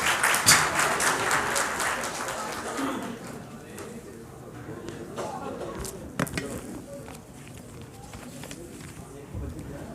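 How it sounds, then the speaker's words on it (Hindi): A crowd at a public meeting in India claps loudly to welcome a speaker. The applause is dense at first and gradually thins into scattered claps, with voices talking underneath. "जोरदार ताली बजाकर उनका स्वागत।"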